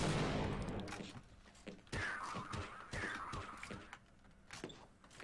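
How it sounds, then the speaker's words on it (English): Gunfire from Barney, the security guard in the video game Half-Life, sharp repeated shots in quick bursts with crunchy impacts, moderately loud amid game sounds. "Barney was shooting some shots"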